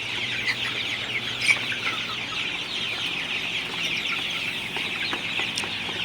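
A shed of 39-day-old Sonali super hybrid chickens clucks and chatters constantly on a hot afternoon, a dense flock murmur with a low fan hum beneath and no talk.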